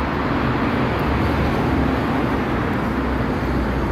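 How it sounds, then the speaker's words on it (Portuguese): Constant loud traffic roar beneath a viaduct near Antwerp station in Belgium, with a car passing close and the rumble echoing steadily throughout. "Calma aí que tá passando o carro. Faz muito barulho aqui embaixo do viaduto."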